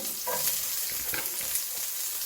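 Onion frying in a hot pan for a green chicken gravy, a dense steady hiss of oil with a few soft stirring knocks, close and continuous, no voices.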